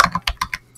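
Keystrokes on a computer keyboard as a command is entered on a Linux system: about five quick, close taps in under a second, crisp and alone.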